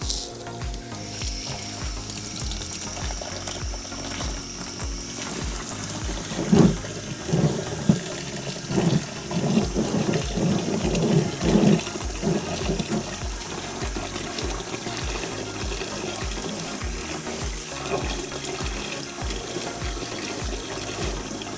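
Water runs through reef aquarium sand as it is rinsed, a constant rushing, hissing flow with bursts of churning and sloshing in the middle, close and steady throughout.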